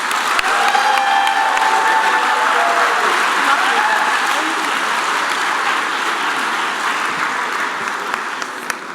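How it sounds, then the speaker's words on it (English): A large audience applauds the top eight teams at a hackathon closing ceremony, loud sustained clapping with a few faint cheers that tapers slightly toward the end, no voices on top. "Can we get a last round of applause for our top 8?"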